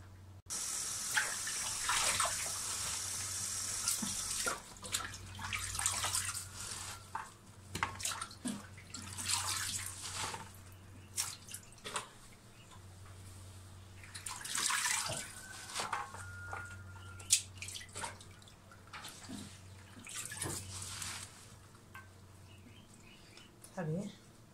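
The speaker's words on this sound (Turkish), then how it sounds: "Bunları da suya ıslayalım. Yıkana dursun bunlar da." Radish greens soaking and being washed in water, with running water and repeated splashing and swishing in bursts near the microphone, plus a few drips and soft handling noises.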